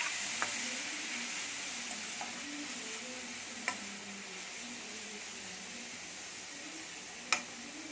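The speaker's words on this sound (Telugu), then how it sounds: "ఇప్పుడు 2 టమాటోస్ వేయండి. వేసి ఒకసారి బాగా కలపండి." Two tomatoes stirred into a hot pan for a broad bean fry, a steady sizzle of frying throughout with a few sharp spoon clicks against the pan.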